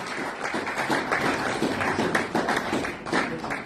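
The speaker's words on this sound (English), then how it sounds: "Just a round of applause." A crowd claps in a meeting hall, and the applause stays dense and steady for several seconds at moderate loudness without fading.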